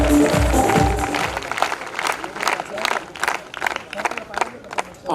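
Audience applause at a function hall, a dense crowd clapping that swells then thins into scattered claps, with some cheering and a voice at the start.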